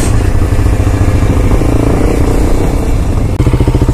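Kawasaki Ninja 250SL motorcycle engine pulling away, a loud, close, rough mid-pitched drone with a steady throb that shifts slightly near the end, no voices.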